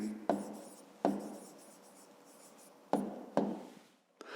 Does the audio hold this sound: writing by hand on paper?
yes